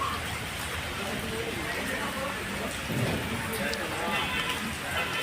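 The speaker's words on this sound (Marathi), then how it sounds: "हा पाऊस एवढा जोरदार आहे" Steady heavy monsoon thunderstorm rain over crop fields in Dharashiv district, Maharashtra, hissing evenly across the whole stretch, a dense wash of noise with a slight swell partway through.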